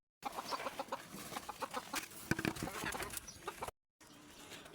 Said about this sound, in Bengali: এই যে আমার একটা মুরগির ঘর, এখানে আমার ছোট্ট একটা সংসার, 5টা মুরগি আছে